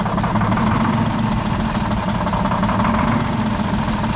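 Caterpillar 3406A diesel engine running with one cylinder misfiring and dumping raw fuel out the exhaust, a steady, loud, close rumble that holds evenly throughout with no voices.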